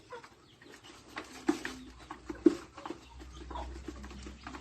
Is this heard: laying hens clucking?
yes